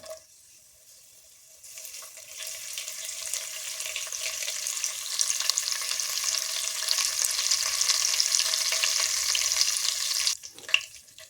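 Cumin and curry leaves crackle in hot ghee after mustard seeds, a tempering for bisi bele bath: a quiet start, then a loud continuous hissing sizzle that swells and holds before cutting off near the end.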